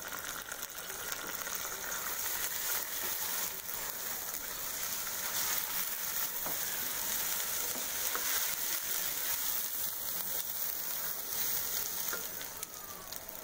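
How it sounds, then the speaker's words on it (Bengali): Polao rice with onions frying in a pan gives off a steady, close sizzle that holds evenly for the whole stretch, with no talking over it. "আমি চালটা দিয়ে দিচ্ছি পোলাওয়ের"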